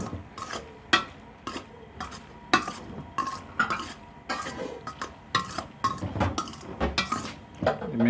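Cooked macaroni is stirred with cooking oil in a pot, giving a series of repeated scraping and clinking spoon strokes against metal at a moderate, steady pace.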